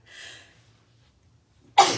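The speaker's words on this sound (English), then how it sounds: "excuse me, sneeze" A faint breathy inhale, a short pause, then one sharp, loud sneeze bursting out close by.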